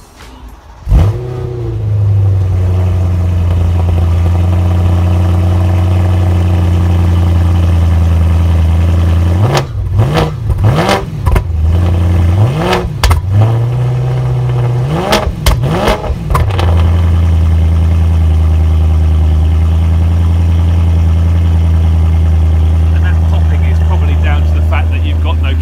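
A modified BMW E92 M3 Competition Pack V8 fitted with Max Schnell test pipes idles with a deep steady drone, broken by several sharp throttle blips and revs near the middle before it settles back to idle, loud and close.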